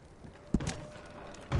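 Horses in Red Dead Redemption 2, a couple of soft hoof clops and shuffles nearby, faint and brief against quiet background.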